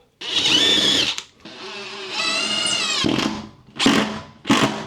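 A power drill whines in several bursts driving a screw into a wooden stud, a long steady run followed by short spurts as the screw bites in, loud and close with no talking.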